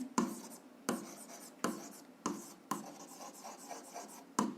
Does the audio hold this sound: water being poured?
no